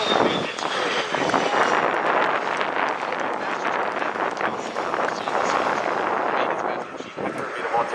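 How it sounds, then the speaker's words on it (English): Blue Angels jets taxiing at the Cleveland Labor Day air show, a steady loud roar of turbine engines with wind buffeting, continuous across the whole stretch, with an announcer's voice over a public address. "As the aircraft taxi down"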